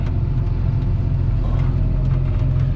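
A tractor engine idles with a loud, steady low rumble and drone, close by and continuous, with no talk over it.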